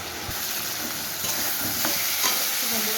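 Fish curry masala is sautéed in a pan, a continuous frying sizzle with scraping spatula strokes that grow slightly louder near the end, heard alone without voices.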